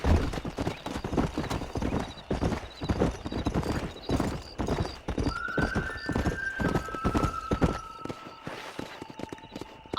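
A horse in the video game Red Dead Redemption gallops with rapid, loud hoofbeats throughout, and a whinny rises midway; close and steady over about ten seconds.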